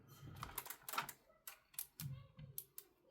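Keys on a Razer keyboard with a whole row not working are pressed one at a time, giving a scattered, uneven run of sharp, quiet clicks and taps close to the mic.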